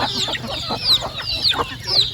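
Native country chickens cluck in short repeated bursts close by, a few sharper high calls standing out above a low farmyard background.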